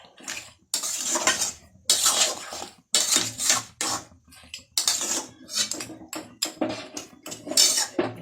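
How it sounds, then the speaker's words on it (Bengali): Jaggery is stirred into a jujube pickle in a pot, with a spoon scraping and clinking against the pot in bursts of repeated strokes. Brief pauses fall between the sticky, wet stirs. "গুড়টা মিশিয়ে দেবো, ফুলের মধ্যে মিশিয়ে দেবো।"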